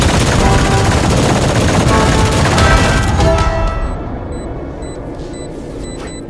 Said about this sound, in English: Then aim to where the snowy part is on the wall, and then shoot.